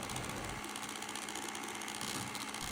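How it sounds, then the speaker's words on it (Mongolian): Electric mixer whipping chilled cream for a no-bake fruit roll cake, a steady close motor whir running throughout. "хөргөчөнд байгаа хүйтэн кремээ ингэж миксер дээд хөтгөрүүлнэ"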